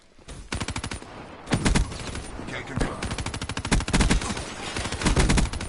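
Automatic weapons fire in rapid, continuous bursts during Call of Duty: Black Ops 4 Battle Royale. The close, loud rattling volleys repeat back to back with only brief gaps across the whole stretch.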